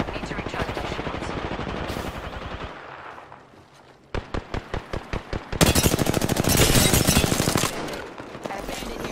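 Automatic gunfire in Apex Legends, dense rapid bursts followed by a lull and then a string of evenly spaced single shots before another long, loud sustained burst.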